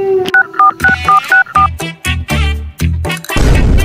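A phone keypad beeps out a quick string of about six dialing tones before the line cuts to a burst of noise, close and loud.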